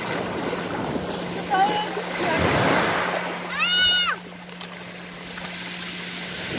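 Strong ocean waves wash and splash along the Ilocos Norte coast near the Bangui windmills, a rolling surf swell under voices speaking, with a bird call or squeak cutting through briefly.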